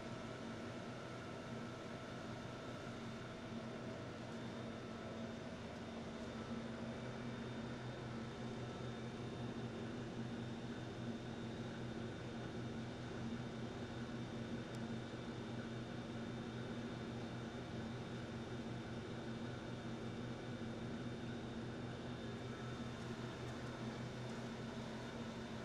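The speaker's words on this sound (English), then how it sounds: "We will start this motor generator set now and demonstrate its noise level." A motor generator set runs inside a sound reduction enclosure, producing a faint, steady mechanical hum with a constant tone that does not change.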